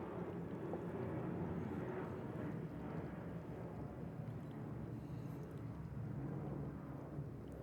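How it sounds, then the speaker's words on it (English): An aeroplane passes overhead outdoors as a continuous low, broad rumbling roar, distant and soft, swelling slightly and then easing over several seconds. "the aeroplanes that go over the top"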